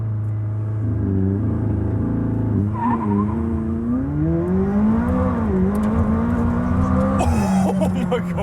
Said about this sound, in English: Here's a quick clip of the Thestraightpipes driving the 600LT.